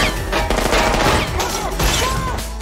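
Cannon fire in a film battle scene, involving a US military unit fighting attackers, comes as a dense, loud barrage of booms and cracking blasts with crashing debris.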